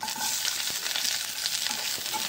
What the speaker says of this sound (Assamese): তাৰপাছত এতিয়া মই ইয়াতে পিঁয়াজখিনি ভাজি ল'ম।